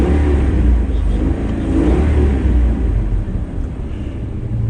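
A Ventrac tractor engine revs under acceleration while pulling a load, a loud, close, throaty low roar that swells and eases in waves without pause, with no voices.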